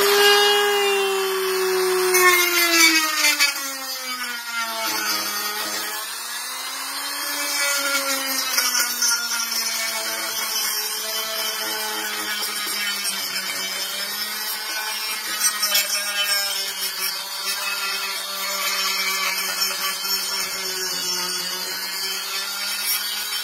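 A Dremel rotary tool with a rubber wheel grinds and cleans up a knife handle, a steady high whine that dips and rises in pitch as the load changes, close and continuous with no talking.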